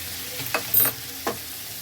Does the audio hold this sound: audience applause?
no